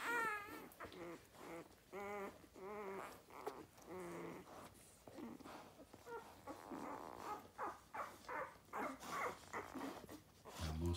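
Week-old newborn puppies whimper, squeal and grunt in a litter, a string of high cries and soft growly noises close by, fairly quiet overall.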